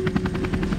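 Helicopter from the video game Tomb Raider: Legend, a steady rotor drone with a rhythmic chopping pulse, sustained and fairly loud throughout with no talk.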